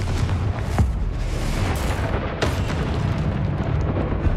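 Confringo fire spell in Hogwarts Legacy, several blasts bursting over a constant rumbling roar of flames and crackle, two sharper bangs standing out amid continuous loud combat noise.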